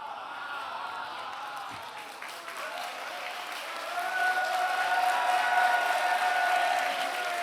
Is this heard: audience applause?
yes